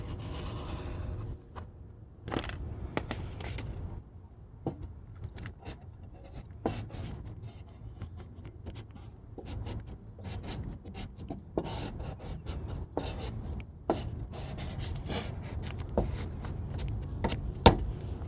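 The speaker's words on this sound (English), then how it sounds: "So I'm gonna cut all the way from the top." Knife slicing vinyl wrap film along a car door during a wet install, heard as a series of sharp, brief scratchy cuts and taps with soft rubbing in between, close and moderately quiet, with no talking.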